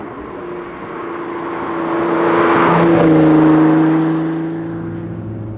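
A Lotus Evora sports car engine with a modified exhaust revs up to a loud, throaty howl, holds, then eases back down, with no voices.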